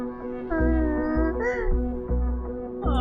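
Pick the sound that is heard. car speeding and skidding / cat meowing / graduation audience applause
cat meowing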